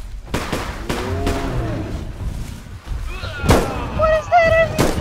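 Fireworks exploding in a loud series of sharp bangs and crackles with whistling and screeching tones, interspersed with excited shouting voices.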